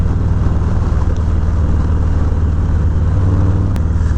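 A motorcycle engine runs steadily close by, a continuous low rumble with even idle pulses and no noticeable revving, heard alone throughout.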